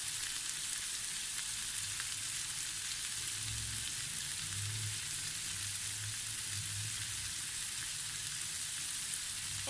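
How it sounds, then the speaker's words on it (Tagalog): Bitter gourd (ampalaya) and tomato sauté in a pan with a continuous, even hiss of frying and occasional soft stirring thumps underneath, heard close and alone. "Ituloy lamang po natin ang ating paggisa for another 5 minutes hanggang sa lumambot po yung ating ampalaya"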